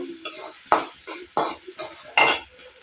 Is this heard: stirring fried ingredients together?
yes